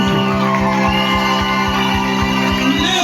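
Church congregation at a tabernacle service shouting and acclaiming together, a loud sustained crowd roar of raised voices and whoops over a steady, rhythmic low pulse, continuous throughout.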